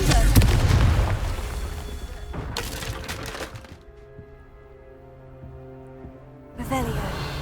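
In Hogwarts Legacy, a Confringo fire spell goes off with loud booming blasts, a heavy burst at the start, another soon after, and a final crack near the end, separated by a quieter, ringing lull.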